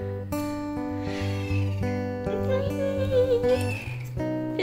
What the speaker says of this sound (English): I'm gonna hear that little meow again